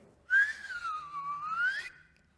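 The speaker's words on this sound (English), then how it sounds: "He sprang to his sleigh, to his team gave a whistle." A person gives one long, clear, melodic whistle that slides down and back up in pitch, lasting about a second and a half, loud and alone, as if calling a sleigh team.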